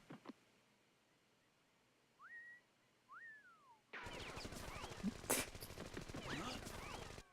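Gunfire in the Skullmonkeys video game. A few faint whistling chirps over near silence give way to a sudden loud, dense rattle of rapid shots that carries on to the end.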